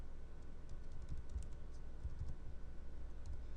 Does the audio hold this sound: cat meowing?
no